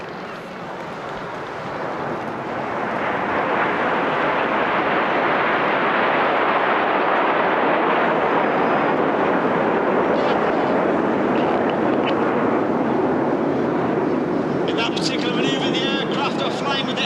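A loud, sustained roar of Red Arrows jet aircraft passing overhead during an airshow display, building up over the first few seconds and then holding steady.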